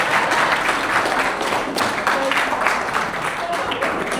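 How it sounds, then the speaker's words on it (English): Audience at a motorcycle group ride anniversary luncheon claps a speaker off stage, a dense steady patter of hands from a nearby crowd with voices mixed in. "That's right, clap her off."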